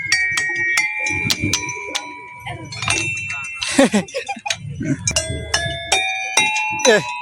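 Bells ring at Sati Radhika park in Guwahati, with repeated bright metallic strikes that leave ringing tones behind, loud and close, while people talk between the strikes.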